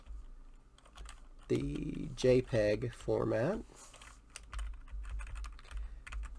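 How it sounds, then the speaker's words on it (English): Computer keyboard typing as rapid, irregular key clicks running through the whole stretch, with someone talking over part of it. "You're gonna tell me all about it while I'm typing."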